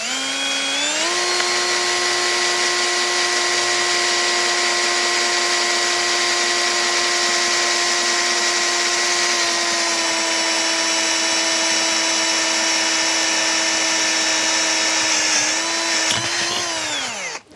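Bosch Pro GSR 12V 15 FC compact cordless drill boring into lubricated metal with a 5 mm bit, a steady close whine that spins up, holds evenly for about fifteen seconds, then winds down, with no talking.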